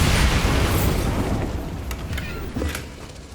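A Bombarda spell in Hogwarts Legacy goes off as a single loud, close explosion with a heavy rumbling boom that slowly decays over a few seconds, with no voices.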